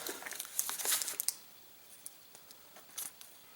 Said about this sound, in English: So it cuts with a pair of scissors